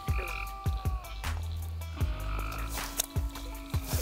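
A frog croaks near a pond bank in a series of sharp, close, repeated calls against a low background rumble.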